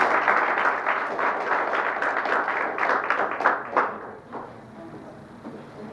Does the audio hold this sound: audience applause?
yes